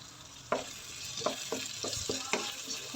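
Vegetables seasoned with salt, garam masala and crushed red chili fry in a pan for a desi vegetable macaroni. A soft, steady sizzle runs under about half a dozen distinct spatula scrapes and taps at a loose rhythm, with no voices.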